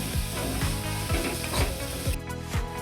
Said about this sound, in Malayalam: ഒരു മിനിറ്റ് ഇളക്കുക.